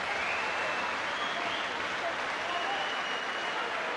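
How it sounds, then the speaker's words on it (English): Boxing crowd applauding after a round at a British professional bout, a dense steady roar of clapping and cheering filling the whole stretch without a break. "What a round of applause."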